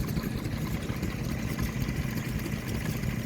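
A miniature traction engine runs at a miniature traction and stationary engine rally at Fort Paull Battery, giving a steady, dense mechanical chugging close by without a break.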